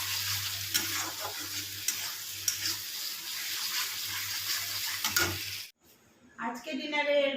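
A masala of onion, ginger, garlic, green chilli and tomato sizzles and gets stirred in a pan as yogurt goes in, with steady crackling and scrapes that stop abruptly before a short, brighter, different sound.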